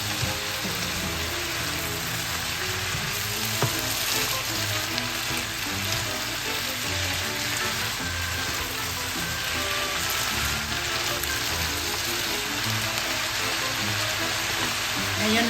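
Baguio beans and fish sizzling in a frying pan as they are stirred, a steady broadband crackle and hiss running evenly throughout with faint scraping, no voices.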